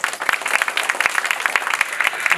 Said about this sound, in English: Now everybody clap.